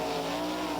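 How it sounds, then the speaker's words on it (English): A sprint car spins sideways on a dirt track during 1995 Indiana Sprint Week racing, heard as a brief, loud, sustained engine roar. "Look out, he's got it sideways, around, and he parks it."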